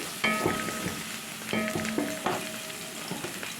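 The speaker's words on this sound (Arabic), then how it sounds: "احط الاول البطاطس احمرها قبل الباذنجان والفلفل طبعا." Potatoes frying in hot oil, a steady close sizzle broken by a few sharp stirring scrapes and clanks of a utensil against the pan.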